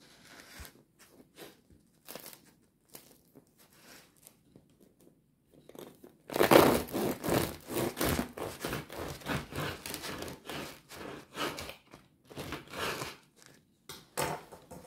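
A knife saws through a crusty homemade baguette, beginning with a few faint crackles and then breaking into about eight seconds of loud, dense crunching and crackling of the crust, close up and without talk.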